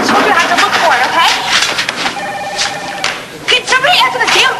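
A telephone rings repeatedly in an office setting, bright trilling bursts cutting through overlapping conversation and background noise, with people talking loudly throughout.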